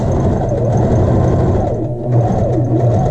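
A sewing machine stitches down the facing edge of a child's shirt with a half-inch seam allowance, finishing with a short back stitch; a steady, close motor whir with rhythmic needle thumps runs continuously.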